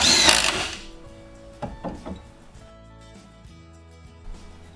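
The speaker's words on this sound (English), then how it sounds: "We install the Silca grate, and you screw it right into place." Screws being driven to fix a Silca grate onto a stair, a sharp loud burst at the start followed by a few short, fainter mechanical whirs and taps with ringing tones between.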